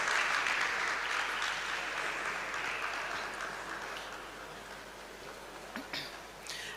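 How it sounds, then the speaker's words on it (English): An audience at a digital Africa conference and exhibition claps, a sustained wash of applause that slowly fades over several seconds, with a faint voice near the end. "another round of applause for them."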